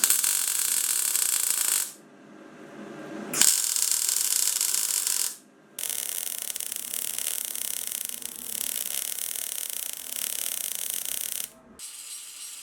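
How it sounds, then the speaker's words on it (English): Welding on the second half of a steel fly press frame in a home workshop, a loud steady hissing crackle in several long bursts separated by short pauses, with no talking. "I'll now get the second half welded."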